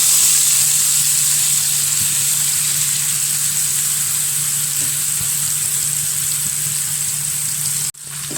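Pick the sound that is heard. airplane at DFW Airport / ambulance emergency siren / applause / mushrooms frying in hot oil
mushrooms frying in hot oil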